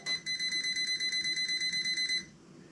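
A 360 laser level's high electronic alarm beeps in a rapid, even series of about fifteen pulses, close and clear, then cuts off.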